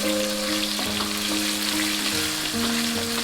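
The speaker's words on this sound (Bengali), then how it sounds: "চিনিটা দিয়ে আগে একটু নাড়াচাড়া করতে হবে।" Sugar is stirred in a frying pan while making dhokar dalna, over a loud, continuous sizzle with a sustained tonal hum and occasional soft scraping, no voices.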